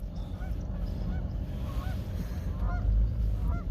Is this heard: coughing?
no